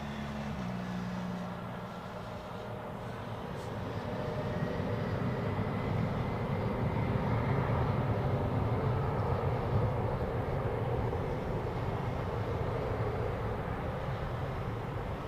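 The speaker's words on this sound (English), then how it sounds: "That looks like takeoff for United Airlines" A United Airlines airliner takes off at Zurich Airport, its engines producing a steady, broad roar that swells slightly and holds throughout, heard at a moderate distance with no speech.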